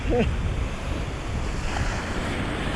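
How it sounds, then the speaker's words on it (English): A strong southerly wind gusts and blusters across an island shore as waves wash in, a loud roar of wind noise over the surf, with a faint voice briefly at the start. "That southerly wind's been cutting through me"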